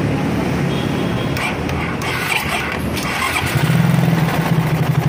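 A motorcycle engine fitted with racing cams idles roughly nearby with a lumpy, uneven ticking beat, briefly rising in revs toward the end.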